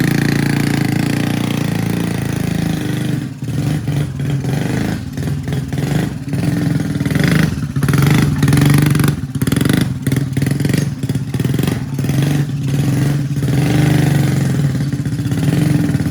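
A vintage 50cc motorcycle, stored for ten years, runs close by with a loud buzzing engine, idling and then revving up repeatedly in uneven bursts.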